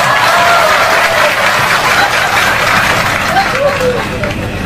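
An audience at a comedic Islamic sermon by KH Anwar Zahid breaks into sustained clapping mixed with crowd murmur, steady and full throughout.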